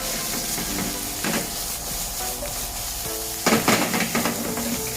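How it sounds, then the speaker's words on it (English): Char koay teow rice noodles with egg sizzle and hiss steadily in a hot wok during a Penang-style stir fry, with metal scraping and tossing sounds that swell louder in bursts near the end. "Stir fry it for a while first before we put in the mixed sauce."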